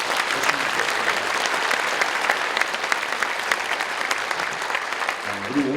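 A church congregation applauds at an anniversary dedication service, a dense, sustained round of clapping from many hands that stays loud and even throughout.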